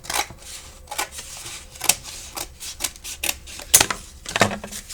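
Scissors snip through folded paper in a run of short, sharp, close cuts, irregular crisp clicks and rasps spaced across a few seconds with quiet gaps between them.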